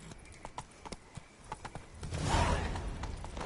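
Roach, Geralt's horse in The Witcher 3, gallops with a quick, irregular run of hoof clops, joined partway through by a louder rushing swell of movement.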